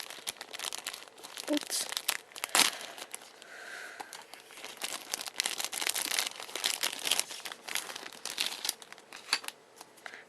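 Paper wrapper crinkled and torn while unboxing fingerboards, close, irregular rustling crackles and sharp tearing bursts, fairly quiet, with a brief muttered word in between.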